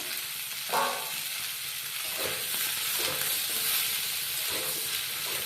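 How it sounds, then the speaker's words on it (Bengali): Eggplant frying in a pan after potatoes, giving a soft steady sizzle with a few scraping stirs of the spatula at intervals, fairly quiet and close, with no talking. "বেগুনগুলো একটু ভালো করে ভেজে নেব।"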